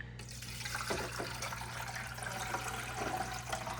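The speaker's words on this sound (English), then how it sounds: "even though I'm filtering the tap water" Tap water runs steadily through a filter, a continuous close hiss and gush of flowing water lasting the whole moment with no one speaking.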